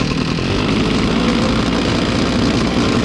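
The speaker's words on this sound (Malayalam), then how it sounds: "ഇപ്പോൾ നമ്മുടെ ബ്രഷ് കട്ടർ സ്റ്റാർട്ടായിട്ടുണ്ട്." A Nikko brush cutter's small petrol engine idles just after starting, making a steady, dense buzzing drone that stays close and loud the whole time. No one speaks.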